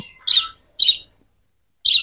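Three short, bright chirps from pet parrots, spaced apart with quiet gaps between them, close by and clear.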